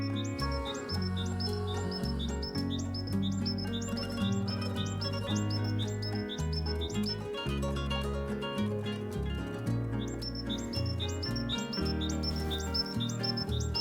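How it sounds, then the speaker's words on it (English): Birds chirp and tweet steadily in a winter garden, high repeated calls layered over a low ringing of church bells in a dense, continuous mix. "The birds are competing with the church bells."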